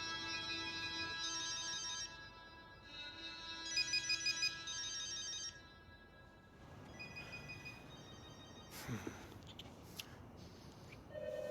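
A phone ringtone in As Dusk Falls chimes in repeated melodic bursts for several seconds, then stops, leaving quieter room noise and rustling movement.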